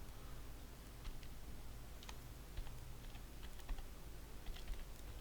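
A command is tapped out on a computer keyboard in a series of faint, irregular key clicks over a low steady hum, without any speech.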